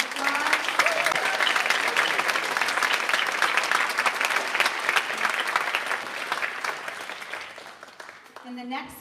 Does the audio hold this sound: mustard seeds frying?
no